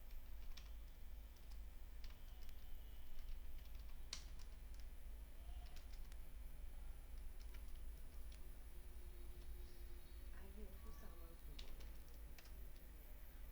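Names are typed into an Excel spreadsheet on a computer keyboard, with scattered soft key clicks and an occasional sharper tap over quiet room noise, close and faint.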